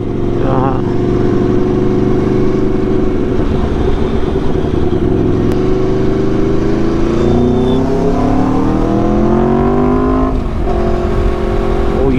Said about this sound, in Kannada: ಆಕ್ಸಿಲರೇಟರ್ ಕೊಟ್ಟಾಗೆ ಗಾಡಿ ಸುಮ್ಮನೆ ನೋಡಿ